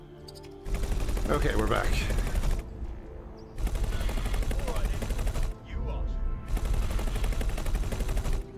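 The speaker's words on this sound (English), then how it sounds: "we're getting hit by plasma turrets there" Plasma turrets on a capital ship pound a lone fighter in the space game X4, loud dense bursts of rapid gunfire in three long volleys separated by short lulls, with someone briefly talking over them.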